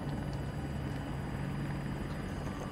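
Helicopter flying in the shooter game Battlefield 2042, a steady loud rotor drone with a low thumping hum throughout and no talk.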